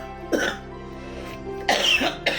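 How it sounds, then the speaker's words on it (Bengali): A person coughs in a few separate dry bursts, close and moderately loud, with short pauses between them. "তো কাশি হচ্ছে"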